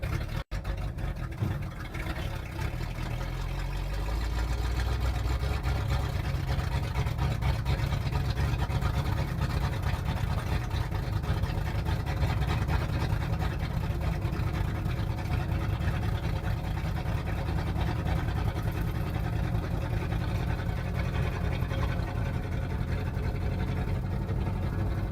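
An old yard truck with a Ford FE engine idles after a cold start, a steady, low, continuous engine drone that stays close and unbroken throughout.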